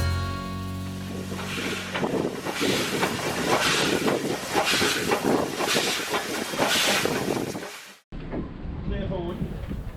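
Heritage steam train at Dartmouth chuffing rhythmically nearby with regular hissing beats over wheel clatter for about eight seconds, then a cut to a quieter scene with faint voices.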